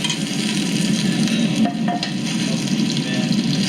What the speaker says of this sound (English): Frying up these little birds, fig birds they're called